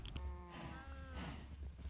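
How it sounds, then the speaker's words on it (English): Cows mooing in the Minecraft video game, a couple of drawn-out game-animal moos close by with nothing else over them. "I started off the day by breeding some cows and then proceeded to kill the cows"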